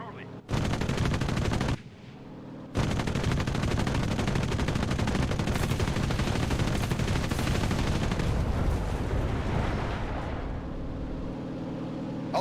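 Rapid gunfire in the WW2 shooter game Enlisted, dense sustained bursts of automatic fire with a brief break, loud and continuous, with some talking underneath.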